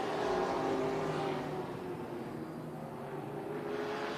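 NASCAR modified race cars racing at Tucson Speedway, a continuous droning engine roar from the pack at a steady distance, swelling slightly at the start and holding level throughout.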